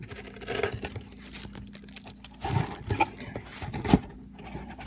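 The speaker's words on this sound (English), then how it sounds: "I'm going to need a knife for this because I don't think I'm going to be able to cut through it" Knife slicing through product packaging from a summer subscription box: close, faint tearing and crinkling of wrap and cardboard, irregular scratchy bursts growing slightly louder toward the end, no speech.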